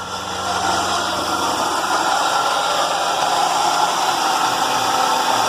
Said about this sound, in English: that horrible grinding you are hearing is coming from down there. The AC compressor is shot and needs to be replaced.